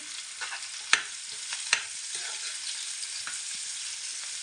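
Onions sizzle steadily as they fry in a pan, with a couple of sharp scraping knocks as they are stirred and a soft continuous hiss throughout, no voices.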